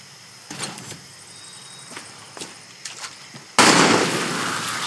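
Gunfire in the video game Far Cry 6: several sharp, separated shots crack out at irregular intervals. A loud sustained burst of noise then takes over and continues to the end.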